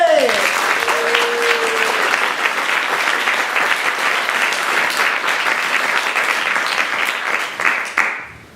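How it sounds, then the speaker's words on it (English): Loud, sustained applause from an audience welcoming a presenter at a Bettakultcha talk night in York, steady throughout with a brief tonal sound at the start, then fading at the end. "please, a huge round of applause for Mr."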